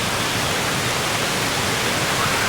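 A waterfall at Wang Kan Lueng in Thailand pours down in a steady, loud, broadband rush of water that fills the whole clip without a break or voice.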